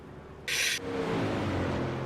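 A V8 racing car engine in a sim racing game holds a steady low-rev drone in sixth gear, close and continuous, with a short hissing burst partway through.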